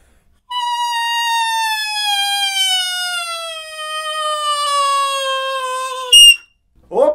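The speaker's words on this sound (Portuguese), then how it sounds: "Até encontrar um ponto que é o ponto do apito, que é a hora que você já quase não está mais relando na palheta e aí dá um apito." A saxophone mouthpiece and reed played alone produce a sustained high whistle, a clear pure tone that slowly glides downward in pitch for several seconds before cutting off, followed by a brief short squeak.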